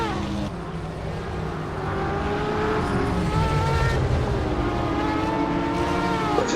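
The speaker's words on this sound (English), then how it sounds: "the Porsche mix with the BMW does sound phenomenal, and the Corvette just adds that to the mix" Porsche, BMW and Corvette race cars in a sim racing multiclass endurance game, several engines droning and layering together with shifting pitch as they run close, a steady loud blend throughout.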